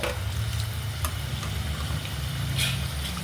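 Indian gooseberries (amla) fry in a pan for a pickle, giving a steady, continuous sizzle with a low bubbling rumble that stays even throughout, with no talking.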